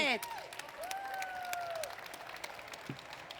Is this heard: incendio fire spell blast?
no